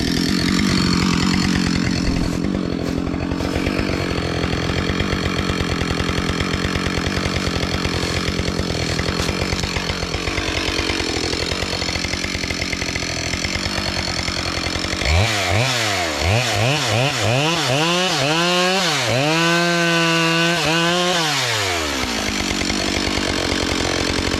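Chainsaw cutting through wood at a wood yard, with a loud continuous engine whine that shifts pitch as the cut loads and unloads, then surges and revs in rising and falling sweeps near the end.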